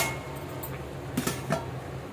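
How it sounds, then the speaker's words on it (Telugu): A lid set onto a cooking pot during preparation of a raw banana fry with coriander rasam, giving a couple of quiet metallic clinks near the middle, close and soft, with no talking. "ఒక ఐదు నిమిషాలు మూత పెట్టేసుకుందాం"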